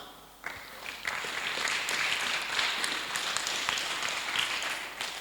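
A church congregation breaks into sustained applause during a French-language Sunday service, a dense wash of clapping that swells in after a brief quiet and holds steady, fairly loud, to the end.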